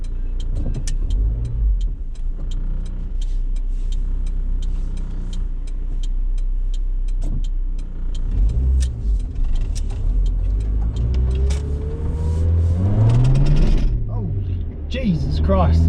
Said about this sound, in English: Spun the wheels from all that VTECing.